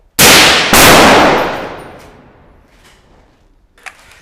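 Two sharp, loud gunshots in quick succession during a firefight between Philippine special forces and ISIS fighters, each ringing out with a long echoing decay, followed by faint distant noises.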